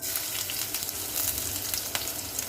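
Green chili, ginger and garlic cloves sizzle and crackle steadily in hot oil in a pan over a medium flame, close and continuous with no voices.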